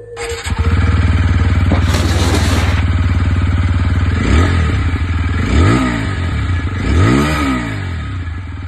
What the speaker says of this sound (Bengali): চলো বন্ধুরা এবার আমরা আরটিআর এর সাউন্ডটা চেক করব।